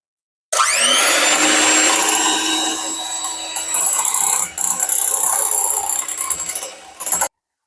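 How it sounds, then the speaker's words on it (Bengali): An electric blender whirs loudly as it mixes oil, eggs and sugar for a mango cake batter, starting abruptly, running steadily for several seconds with slight dips in pitch, then cutting off. "এবার তেল ডিম চিনি দিয়ে ব্লেন্ড করলাম"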